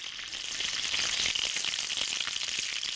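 Bacon sizzles steadily in a frying pan, a dense, continuous crackle and hiss that stays close and even throughout, with no voices.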